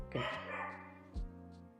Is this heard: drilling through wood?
no